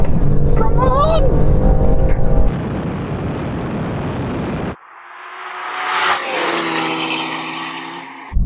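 A BMW M2 Competition races down a runway, engine roaring loudly and steadily with a rising pitch as it passes. A voice calls out near the start, and the tone shifts abruptly midway.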